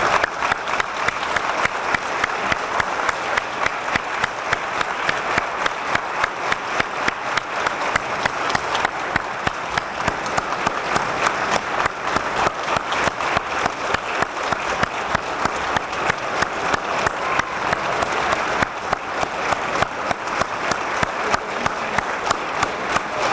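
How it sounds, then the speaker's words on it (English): Graduates and guests at a fire academy commencement and badge pinning give Chief Halt a long standing ovation, steady, dense applause from a large crowd that holds strong for over twenty seconds. "show a little respect to Chief Halt and give him a round of applause"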